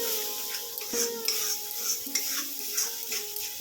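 Spoon scraping and stirring chili powder and spices in a hot pan, a steady soft sizzle under repeated clinks and scrapes of utensil against metal, close up with no talk.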